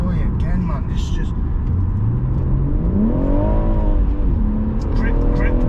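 A BMW M140i accelerates hard under full throttle, its engine note climbing steadily in pitch through a gear, loud and close from inside the cabin. Someone talks over the steady roar of engine and road noise.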